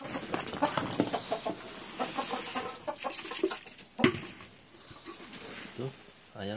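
Pet chickens cluck around a simple coop with a laying area, giving short irregular calls close by while a person talks over them.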